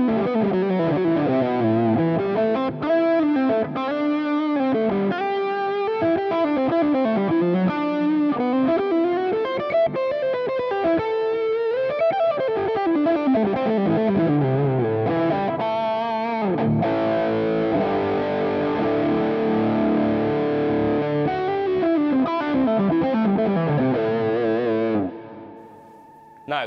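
Electric guitar run through a drive pedal into an already driven amp, playing a long continuous distorted line of riffs and bends at steady loudness, then cutting off near the end.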